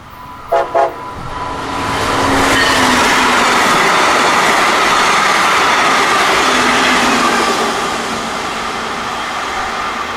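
A bright green Brightline passenger train, BLF 701, runs southbound past on Florida track, a brief double horn blast giving way to a loud, sustained rolling roar of wheels on rail that eases slightly near the end.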